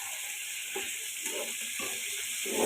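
Cubed potatoes frying with onion and garlic give a soft, steady sizzle with a few light stirring scrapes, fairly quiet and continuous, with no talking.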